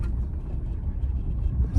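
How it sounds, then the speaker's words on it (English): A pickup truck towing a trailer rolls in to park, its engine a steady low rumble close by with no one speaking. "go ahead and park the truck and trailer out here"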